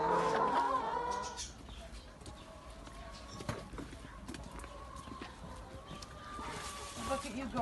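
Bantam chickens cluck on a small farm, with soft clucks and calls scattered across the clip under a person's voice and some background noise.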